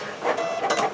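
A Cricut Explore One cutting machine cuts cardstock with a soft mechanical whir, its motor rising and falling in short pulses as the carriage moves, close and fairly quiet.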